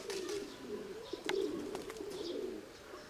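Pigeons in a loft give a steady, low, rolling coo that runs almost continuously, with faint clicks and light rustling around them.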